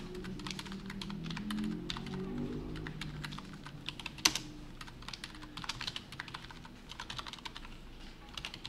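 Rapid, irregular keystrokes on a computer keyboard, including a Control and Space shortcut, clicking close and steady throughout with one sharper louder key press midway; no talking.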